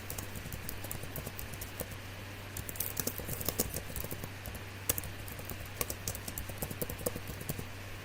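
Keystrokes on a computer keyboard as text is entered into merged spreadsheet cells, a steady run of light, irregular clicks close by over a constant low electrical hum, with no talking.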